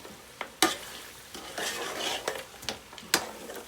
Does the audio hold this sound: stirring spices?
yes